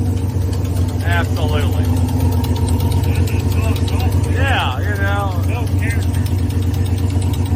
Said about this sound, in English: Now, does it have an exhaust leak?